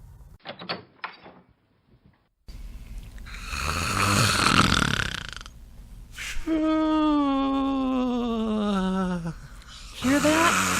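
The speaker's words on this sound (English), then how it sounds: "I think my husband snores through his pores." A man snores loudly in a bedroom, long rasping breaths with a rising wheeze and whistle, preceded by a few faint knocks and brief silence.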